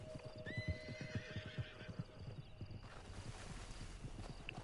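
A horse in Red Dead Redemption 2 whinnies loudly near the start, then gallops off, its hoofbeats pounding rapidly and fading into a rougher background; no talk.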